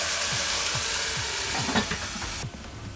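Chopped onions frying in oil in a covered pan, a steady close sizzle with soft rhythmic stirring scrapes, the hiss dropping off abruptly near the end.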